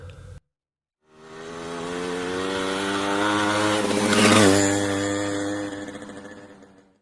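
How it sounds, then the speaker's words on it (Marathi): A motorcycle engine idles with a steady hum, revs up sharply partway through, then winds down and fades. "मोटरसायकल"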